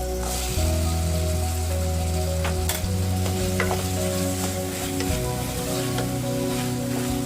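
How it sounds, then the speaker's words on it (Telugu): Raw peanuts and cluster beans fry in a pan with softened tomato, making a steady close sizzle throughout with scraping stir strokes and small pops and crackles, and no voices. "ఇప్పుడు మనము పచ్చి వేరుశనగలు పచ్చి పల్లీలు, గోచిక్కుడుకాయ వేస్తున్నాను"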